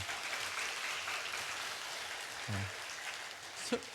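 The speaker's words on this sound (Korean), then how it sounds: "우리 박수로 한번 격려하도록 하겠습니다." Congregation applause during a Sunday evening service at a Korean church, a soft, diffuse patter of many hands clapping in a large room, fairly faint and steady, with a brief voice or thump near the end.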